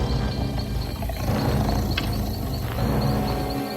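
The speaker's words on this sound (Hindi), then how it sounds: "कुछ घंटों के बाद उस औरत ने एक बाघ को गुर्राते सुना।" A tiger growls and roars in a deep, rumbling, sustained snarl that carries loud and close for several seconds without any talking.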